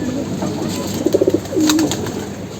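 Army breed pigeons confined in a coop cooing, a short pulsing run of low coos followed by a drawn-out coo, close and clear over a steady background hum.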